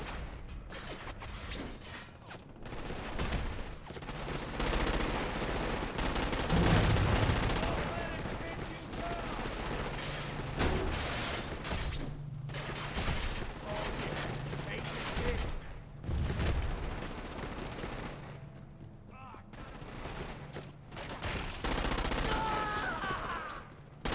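Rapid mounted gun turret fire in the Crackdown 2 video game, bursts of gunfire and mechanical clatter over busy game noise with a voice speaking at times.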